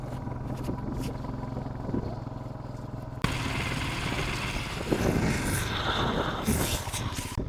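A motorcycle engine drones steadily while riding a mountain ghat road, growing louder and rougher partway through with wind buffeting.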